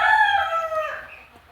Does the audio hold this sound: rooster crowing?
yes